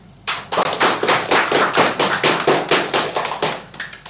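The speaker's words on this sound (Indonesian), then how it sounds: "Kita beri aplaus." A class at a microteaching session applauds, a burst of many hands clapping in a quick, steady rhythm that starts abruptly and fades at the end, loud and close, with no talking over it.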